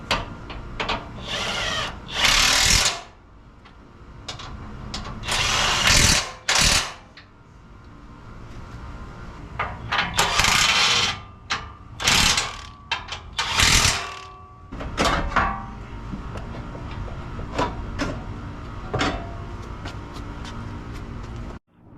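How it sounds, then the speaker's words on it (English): Power tool driving and tightening bolts, with repeated short bursts of whirring and ratcheting separated by quieter gaps and some handling clatter, close and fairly loud. "you can go ahead and start tightening up the bolts here on the bottom and that bolt there on the back"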